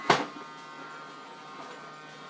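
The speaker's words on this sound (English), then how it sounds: "Can you turn your vacuum off?" A child's toy vacuum cleaner whirs with a steady electric buzz, opening with a brief louder burst and then running at an even, moderate level on its own, with no talking.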